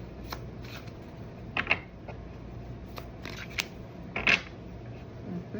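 Oracle cards being shuffled by hand in a quiet room, with soft papery riffles and brief bursts of card flicks coming in short, irregular clusters close up.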